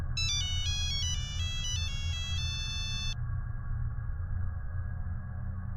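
A company cell phone rings with a bright electronic ringtone, a rapid run of repeating high tones for about three seconds before cutting off, leaving a low background hum.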